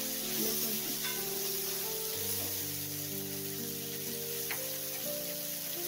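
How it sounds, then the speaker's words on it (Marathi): A soft, steady sizzle of food frying in a pan, continuous and fairly quiet, with gentle music playing in the background. "छानपैकी फ्राय करून घ्यायचा।"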